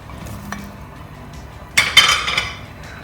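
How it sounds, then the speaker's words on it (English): Zucchini pieces drop into a pot of boiling vermicelli soup, a brief cluster of splashing, clinking and scraping near the end after a quiet stretch, with no one talking. "So now I put the zucchini."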